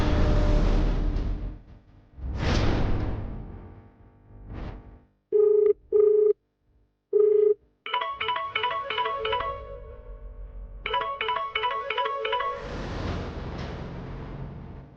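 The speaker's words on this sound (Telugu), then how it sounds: "ఏదో ఫోన్ వచ్చినట్టుంది, లిఫ్ట్ చేయట్లేదేంటి?" A telephone ringing in a home scene from a Telugu TV serial, with bursts of repeated electronic ringtone chirps and steady tones separated by short pauses and swells of background music.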